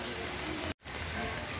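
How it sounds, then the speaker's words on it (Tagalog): Continuous rain hiss on surfaces, fairly soft and steady, broken by a very brief dropout in the middle. "Medyo na ulan-ulan na."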